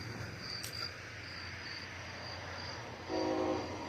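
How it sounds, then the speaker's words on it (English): CSX freight train heading to the Port of Wilmington passes a railroad crossing, a steady distant rumble under chirping crickets, with a horn sounding briefly near the end. "it's a CSX train heading to Port of Wilmington"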